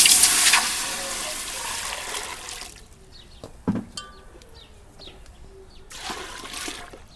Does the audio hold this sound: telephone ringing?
no